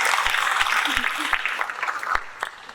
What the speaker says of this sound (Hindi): तालियां बजाओ इस बच्चे के लिए।